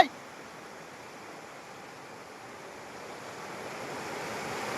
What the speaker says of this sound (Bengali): দেখো গাইস, পানির স্পিড অনেকটাই বেড়ে গেছে, আমার দ্বারা এখন দাঁড়ানো খুব অসম্ভব ব্যাপার।